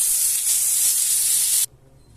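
Butter sizzling in hot white oil in a cooking pan, a loud steady hiss that runs for over a second and a half and then cuts off abruptly, leaving near silence.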